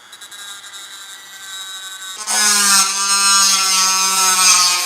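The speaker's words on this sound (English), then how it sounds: "The way you're going to do it is using a dremel and these metal cutting discs." Dremel with a metal cutting disc grinding teeth into wire for a sculpture tool: after a quieter start, a loud, steady high-pitched whine with a bright, harmonic tone kicks in at about two seconds and runs on to the end.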